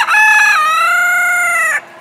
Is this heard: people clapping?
no